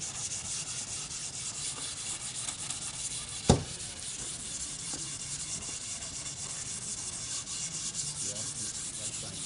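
Painted wood is hand sanded with 400 grit sandpaper in soft, continuous rubbing strokes, close and fairly quiet, with one sharp knock near the middle.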